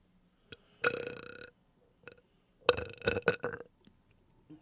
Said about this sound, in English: was a gurgly burp